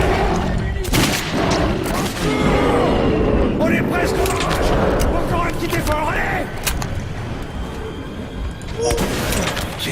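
Gunfire in the video game Metro 2033: rapid bursts and sharp shots crackle close and loud for the whole stretch, overlapping dense in-game noise with voices talking through it.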